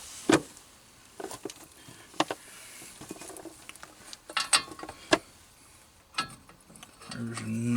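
A 1/2-inch ratchet with an 18mm socket tightens brake caliper bracket bolts on the front of a 2004 Ford F-150 2WD, giving scattered clicking pawl ticks and metallic taps at close range, with a brief steady hum near the end.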